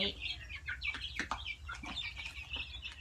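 Several month-old chickens in a coop cluck and chirp together close by, a busy overlapping chatter of short calls with no talking.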